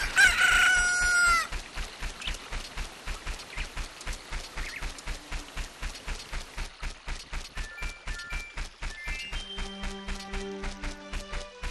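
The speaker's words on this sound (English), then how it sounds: "The rooster's crow, followed by the first chirping notes of Hyrule Field's morning theme" A rooster crows loudly at dawn in Hyrule Field in a Zelda video game, its call opening over a steady rhythmic pulse before bright chirping melodic notes of the field's morning music join in.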